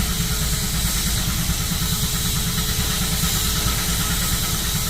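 A 1902 Case 20 horsepower steam traction engine runs with a steady, dense chugging rumble and hiss, loud and close, holding constant throughout with no talk.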